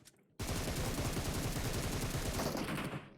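Sustained rapid gunfire in the video game PUBG Mobile erupts abruptly and continues as a loud, dense burst of shots for nearly three seconds before trailing off.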